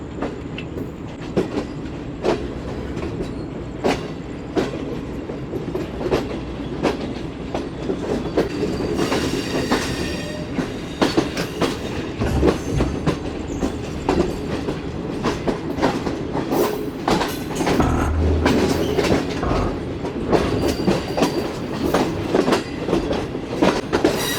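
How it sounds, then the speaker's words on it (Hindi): Shalimar Express train running along the tracks as it switches onto the down main line near Shahjahan Bagh, a steady rolling rumble with rhythmic clickety-clack wheel beats and a brief low squeal, close and continuous. "तो दोस्तों फाइनली डाउन ट्रैक पर आ गई ये ट्रेन।"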